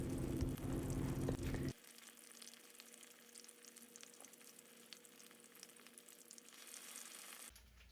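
Pork pieces fry in hot oil for guobaorou, Chinese sweet and sour pork, a loud crackling sizzle for the first couple of seconds that drops to a quieter steady hiss, with no talking.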